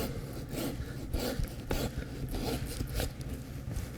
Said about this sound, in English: Now we're just cutting through the vertebrae, just enough to get a knife in.